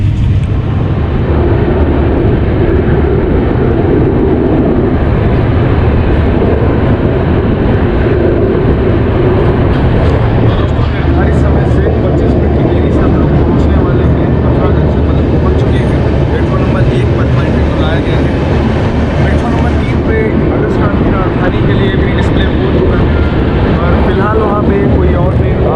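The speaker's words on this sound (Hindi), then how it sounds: "ट्रेनों की एंट्री हो रही है, प्लेटफॉर्म 2 और 3 दोनों में ही ट्रेनों की एंट्री है।" Trains pulling into platforms 2 and 3 at a railway station make a loud, unbroken low rumble and roar that fills the whole stretch, with a faint murmur of voices underneath.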